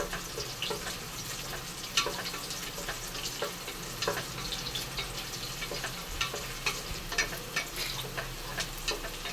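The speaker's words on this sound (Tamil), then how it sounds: "வெங்காயம் நல்லா வதங்கிக்கிறதுப்ப" Onions sautéing in oil for an oyster mushroom gravy, a steady close sizzle broken by the scrape and clatter of a stirring spoon, with no talk.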